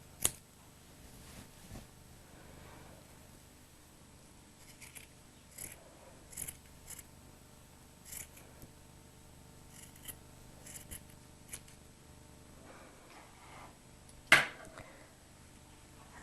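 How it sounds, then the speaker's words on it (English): Sharp scissors cutting along a line of knitted stitches to shape a neckline, a quiet scattered series of soft snips and fabric crunches with one louder, crisp cut near the end, otherwise near silence. "I'm going to take the scissors to it"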